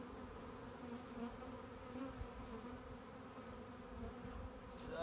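Honey bee swarm being hived in a foothill vineyard, a faint, steady layered buzzing hum from many bees continuing throughout, with no voices.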